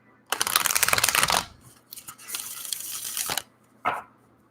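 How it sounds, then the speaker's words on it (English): Oracle cards are shuffled up close in three bursts: a crisp, dense riffle lasting about a second, a longer and softer flurry of card slaps, and then one short final shuffle, with quiet gaps between them. "they actually come to hear the sounds of the shuffle"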